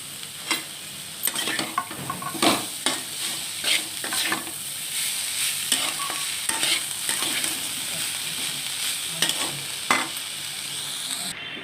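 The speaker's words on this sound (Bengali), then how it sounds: "এবার ভালো করে নেড়ে ছেড়ে দিয়েছি" Banana flower with prawns is stirred and fried in a pan: brisk, repeated spatula scrapes and knocks ride over a constant close sizzle, with no voices.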